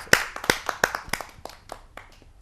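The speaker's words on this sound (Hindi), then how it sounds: "आप सबकी जोरदार तालियों से" At a Hindi poetry gathering, an audience greets a poet with a handful of sharp, distinct claps that come quickly at first, then thin out and fade to scattered soft pats.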